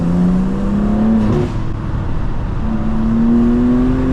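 A tuned 2025 BMW M2 revs as it accelerates, a loud close engine note climbing in pitch, dropping briefly at a gear change and then climbing again.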